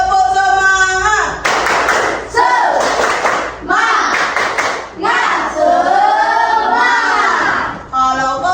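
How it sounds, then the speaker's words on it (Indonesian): A group claps hands in bursts while loud chanting and sung voices of children and adults carry over and between the claps. "Tepuk semangat."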